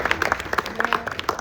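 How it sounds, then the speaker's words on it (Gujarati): An audience claps for a short moment, with a scattered patter of separate hand claps at close to moderate distance. "પહેલા તો પારુલબેન ને આપણે બધા તાળી."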